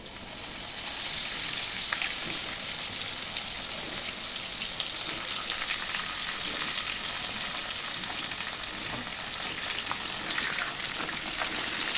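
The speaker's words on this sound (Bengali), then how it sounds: "দেখো একদম গরম তেলে আমগুলোকে দিয়ে দিয়েছি।" Mango pieces for pickle fry in hot oil with bay leaves, giving a loud, dense, continuous sizzle that swells slightly and holds steady throughout.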